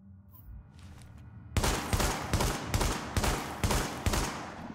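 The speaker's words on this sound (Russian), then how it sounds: "Вот 7 выстрелов я сделал секунд за 5." Seven loud, sharp SASG-12 shotgun shots in the video game The Division fire in steady succession about half a second apart, punchy and close, following a quieter stretch of low rumbling ambience.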